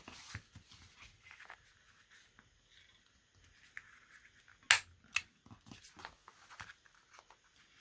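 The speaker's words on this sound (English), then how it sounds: "Now getting this corner rounder through this wallpaper is not always easy." A corner rounder punches through wallpaper in one sharp snapping click, followed by a few smaller clicks and paper rustles amid quiet handling of crafting materials.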